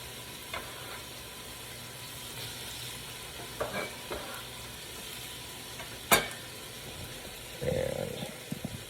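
Chopped chouriço fries in a pan for kale soup, a soft steady sizzle broken by several sharp stirring scrapes and clinks, near and fairly quiet, with no speech.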